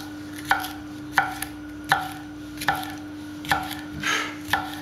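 A small kitchen knife cuts the membrane out of a pepper on a board, producing about seven crisp, evenly spaced cutting strokes close by over a steady background hum, with no speech.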